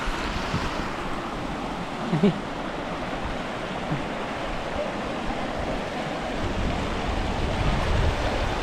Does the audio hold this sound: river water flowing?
yes